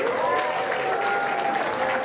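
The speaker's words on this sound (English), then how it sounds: "one more round of applause for our winners" A crowd at a university international dinner applauds the winners, steady dense clapping filling the room with a voice speaking over it.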